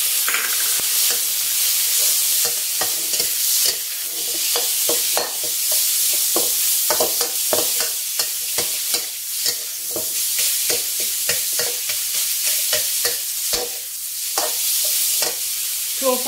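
Minced pork and garlic stir-fried in a pan over medium-low heat: steady close sizzling with frequent scraping and stirring strokes of a spatula, continuous and fairly loud, no talking.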